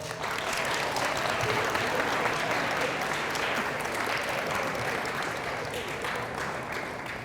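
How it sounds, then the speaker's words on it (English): A crowd at a Catholic Central leadership series event gives a sustained round of applause, with thick, even clapping that fills the room from start to finish. "Give him a round of applause."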